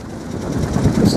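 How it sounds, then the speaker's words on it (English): A sailing boat's engine has just started near the harbour entrance at St Quay, giving a steady low rumble close by. It grows slightly louder over a short stretch, with no talk. "Just started the engine."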